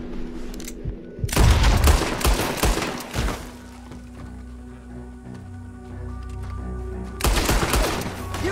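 Chaotic bursts of gunfire in Red Dead Redemption 2 at Armadillo, a loud volley of overlapping shots followed by a quieter stretch, then another sharp flurry of shots.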